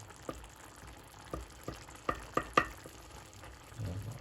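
A spoon stirs two freshly cracked eggs into a simmering minced meat and tomato dish, giving a few scattered clinks and scrapes against the pan over a faint, steady sizzle.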